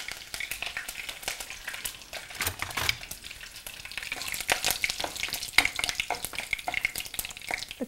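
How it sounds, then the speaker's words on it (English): Curry leaves dropped into hot oil in a pan for South Indian cooking, a steady crackling sizzle with sharp pops and spits, close and fairly loud, with no talking. "Now I'm going to add the curry leaves into it."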